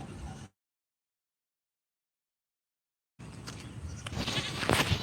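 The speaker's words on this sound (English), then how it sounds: "they got goats, and they got some cows out here too" Goats in a green field, with faint bleats and outdoor noise at first, a stretch of total silence, then louder, busier bleating and rustling near the microphone.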